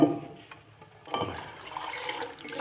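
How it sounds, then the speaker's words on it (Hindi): Water runs and splashes into a metal pot as it fills, a steady rushing pour starting after a quieter moment, close and fairly loud, with no talking. "ये बर्तन जो है इसको भर देना है पानी से"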